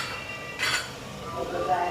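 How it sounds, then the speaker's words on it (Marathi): Soybean pulao with Suhana biryani masala being stirred in a pan, soft scraping and a brief clink of spoon against metal, quiet and close with no talk. "आता आपण हा सुहाना बिर्याणी मसाला टाकून हे प्रॉपर मिक्स करत आहोत"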